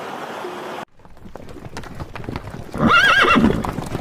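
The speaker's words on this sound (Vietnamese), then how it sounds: "Con ngựa." A horse clip-clopping, with hooves striking ground in a quick uneven rhythm, followed by a loud, wavering neigh near the end, heard up close with no talking.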